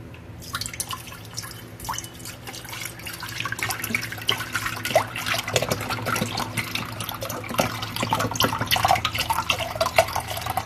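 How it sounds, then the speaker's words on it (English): A whole 32-ounce carton of beef broth, 4 cups, is poured into a slow cooker. A continuous, close splashing and gurgling stream runs for about ten seconds without talk. "the first thing we're going to put in is 4 cups of beef broth, which is this whole carton"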